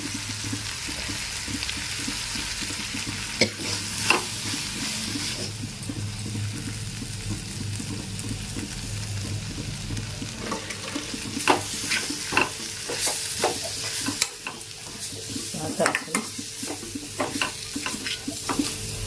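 Spoon stirring capsicum and tomato fry in a pan after roasted gram flour is sprinkled in, with steady soft sizzling and repeated scraping clicks close by, no voices.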